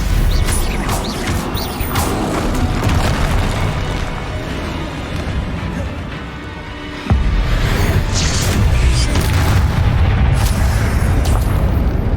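Spells cast during a Hogwarts Legacy combat fight produce a dense, loud stream of booms, crashes and bursts, with a brief dip near the middle before another heavy impact restarts the clamour.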